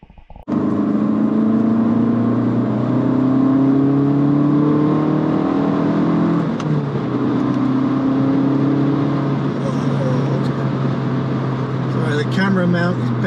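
An Abarth 500 Esseesse on a road run after its MOT: the engine drones loud and close from inside the car, rising and falling through gears, with a voice talking over it.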